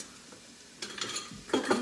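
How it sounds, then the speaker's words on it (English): Holy Trinity vegetables are stirred in a pot for roasted butternut squash soup, heard as two quick scraping, sizzling bursts after a quiet start, close to the listener. "So those are all gonna kind of get stirred up in there."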